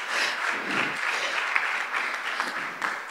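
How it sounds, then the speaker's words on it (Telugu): A church congregation claps together during worship, a dense, steady wash of hand claps filling the room, close and continuous with no pauses, a few sharper individual claps standing out above the crowd. "కమాన్, చప్పట్లు కొడదాం,"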